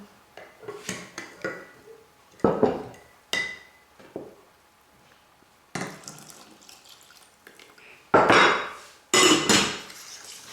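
Cold milk being whisked into a bowl for Napoleon cake custard gives irregular clinks and scrapes of a utensil against the bowl, loud bursts separated by quieter stirring, with no talk.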